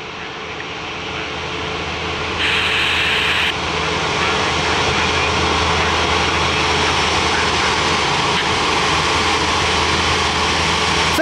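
A Sichuan Airlines Airbus A350 jet in panda livery roars through its takeoff, a loud, steady broadband engine rumble that swells slightly over time, with no voices.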